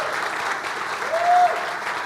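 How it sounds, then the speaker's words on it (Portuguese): Church congregation applauds candidates for baptism with steady, close clapping that holds evenly throughout, a brief thin whistle-like tone rising over it midway. "Podemos dar uma salva de palmas para eles."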